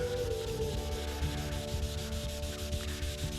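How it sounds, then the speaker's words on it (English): Steady, continuous rubbing of hand wet-sanding across car body paint on an M-1 Cobra, worked in short strokes with a gentle rasping texture, close and even throughout with no talking. "sand it in"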